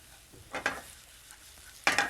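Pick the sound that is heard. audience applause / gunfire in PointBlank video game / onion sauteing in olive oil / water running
onion sauteing in olive oil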